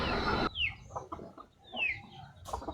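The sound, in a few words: chickens (aseel murga) eating rice from hand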